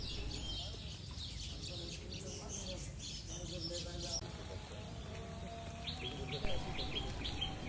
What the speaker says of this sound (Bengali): দূর থেকে একটা তাল গাছ দেখতে পাচ্ছি এবং খুব সুন্দর কিচিরমিচির শব্দও পাচ্ছি।